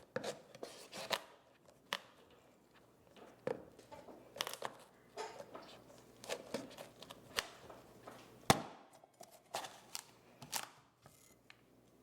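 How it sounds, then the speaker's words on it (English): A knife is forced lengthwise through a spaghetti squash, producing a string of irregular, sharp crunching cuts and knocks, close and fairly quiet, with brief pauses between the strokes. "Place your knife in the crack and cut the squash in half lengthwise."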